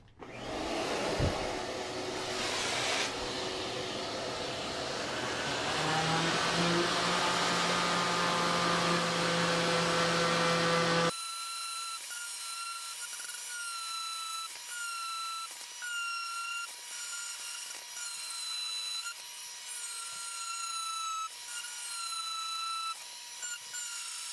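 Loud, steady whine of a power sander on the bottom of a surfboard, running close for about eleven seconds before cutting off, then a quieter stretch with high chirping tones and light ticks.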